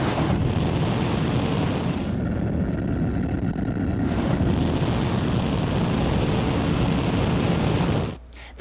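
A SpaceX Starship Super Heavy booster fires during a 33-engine static fire test, giving a loud, continuous broadband roar with a brief dip midway before cutting off abruptly near the end.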